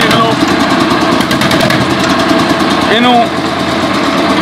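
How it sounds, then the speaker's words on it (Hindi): A 1964 DT-14 Russian tractor engine runs close by with a loud, rapid knocking diesel chug and shifting pitch, while someone talks over it. "देख लो तुहाडे सामने आ स्टार्ट हो गया ट्रैक्टर"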